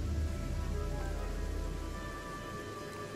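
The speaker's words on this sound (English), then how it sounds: "Aw, man, it's seriously raining." Steady rain pours throughout a scene in the video game Beyond Eyes, a dense, continuous wash of drops that stays loud and even, easing slightly toward the end, with no talk over it.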